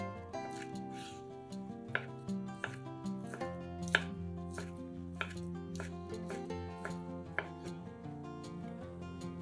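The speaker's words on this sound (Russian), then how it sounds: "Нарезаем небольшими кусками свиную грудинку" A knife cutting pork belly into small pieces on a board, steady evenly spaced chopping taps heard under background music, close and moderately quiet.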